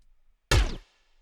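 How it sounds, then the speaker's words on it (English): One sharp, crackling lightsaber block impact from Jedi Survivor, brief and loud, with a buzzy electric edge that quickly decays into a faint ring. "So anytime that the lightsaber is blocking something,"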